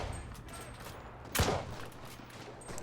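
A sharp, loud burst of machine gun fire rings out once in the middle of the World War II shooter game Enlisted, set in Normandy, with quieter game ambience before and after it.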